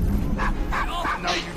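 Dog barking in the video game Assassin's Creed Syndicate, a few yapping barks set against a dense, loud bed of game ambience and background sound.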